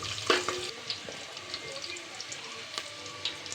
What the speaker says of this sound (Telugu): పచ్చిమిర్చి, పొడవుగా కట్ చేసిన ఉల్లిపాయ ముక్కలు వేస్తున్నా. ఇది మంచిగా జర ఫ్రై చేసుకోవాలి